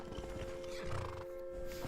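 A horse in Skyrim whinnies with a drawn-out neigh, hooves clopping faintly beneath, the game's ambience and a steady tonal hum running throughout at low volume.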